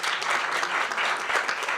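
An audience at a talk on homelessness in California breaks into applause, a dense, even wash of many hands clapping together, close and steady for a couple of seconds, with no voices heard.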